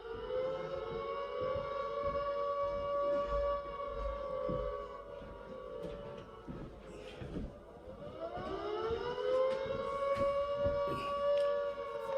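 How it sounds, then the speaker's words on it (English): Recorded air raid siren played back, a long wailing civil defence tone that holds steady, dips and rises again in slow sweeps, loud and continuous with a faint room background. "that was the air raid sounds"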